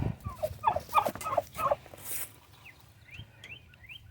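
Turkeys in their pen gobble in a quick series of rattling bursts for about two seconds, then fall quiet except for a few faint chirps at close range.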